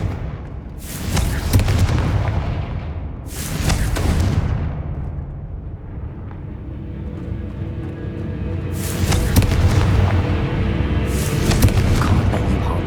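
Confringo spell blasts in the wizarding game Hogwarts Legacy: several heavy, booming explosions, each a loud burst that rumbles and fades, over a continuous low background rumble.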